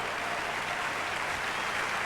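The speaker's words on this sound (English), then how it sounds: "You bet they deserve our applause." An audience at the Miss America 1999 pageant applauds, a dense, even wash of clapping that stays steady across the short stretch.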